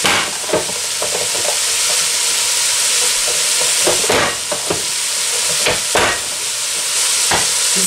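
Small-cut carrots and mixed vegetables sizzle loudly in a pot, a steady close frying hiss broken by clacks of stirring, with no talking.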